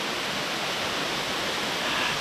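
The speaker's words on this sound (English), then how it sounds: "And there seems to be some nice flow in the waterfall." A waterfall in the Blue Mountains rushes steadily, a dense, constant roar of falling water close by, with no voices over it.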